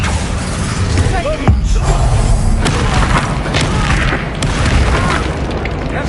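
Bombarda blasting spell explosions in Hogwarts Legacy, a loud booming burst standing out over dense game sounds, with speech running throughout.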